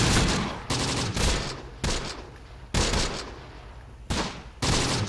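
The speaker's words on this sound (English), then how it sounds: "T-gun still firing. It's firing HE right now." A 37mm anti-tank gun firing HE rounds in the WWII strategy game Close Combat: The Bloody First, with heavy, booming gunfire in repeated loud bursts amid the noise of battle.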